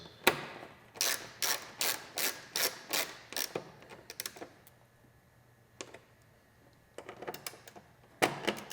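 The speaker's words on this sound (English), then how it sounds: "Once I get it all seated, we'll come back, just give it a little torque." Tiny fasteners on a BMW S1000RR sportbike windscreen are tightened with a hand ratchet, giving a quick run of about nine sharp close clicks, then a pause and a few more scattered clicks.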